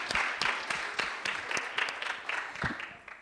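A classroom audience claps at a Christmas event in Lille, the claps arriving as distinct, fairly loud bursts in a loose, uneven rhythm, close to the listener.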